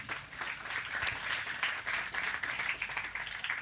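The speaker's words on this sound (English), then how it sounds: "A round of applause for John T." A seated audience at a talk on farmer clusters gives a round of applause, a dense, even patter of many hands clapping that lasts several seconds with no voices.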